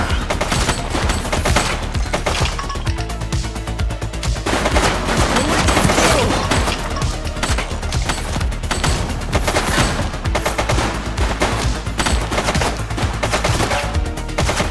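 Sustained bursts of automatic gunfire in The Precinct, a police action game: loud, rapid volleys of shots rattle almost without pause, dense and close for the whole stretch.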